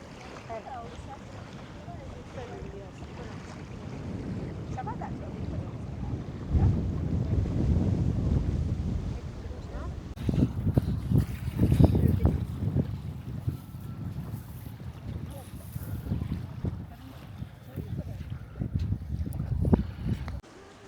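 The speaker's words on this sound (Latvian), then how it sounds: "Nu, tāds reāls, nepārāk patīkams vējiņš uzpuš." Gusty evening wind at the seaside in Hurghada, Egypt, buffets the microphone in swelling roaring bursts that grow stronger midway, with surf in the background and voices speaking briefly.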